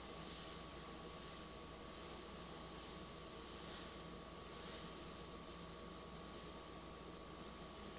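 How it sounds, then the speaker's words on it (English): An airbrush hisses steadily as it sprays black and grey paint onto a leather saddlebag, a continuous soft airy spray held close to the surface, with slight swells as the brush moves around. "just randomly moving the airbrush around while color is spraying"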